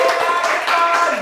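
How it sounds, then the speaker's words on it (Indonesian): Short burst of clapping from a classroom group during a microteaching session, close and fairly loud, lasting about a second. "Oke, tepuk tangan untuk Mas Irfan."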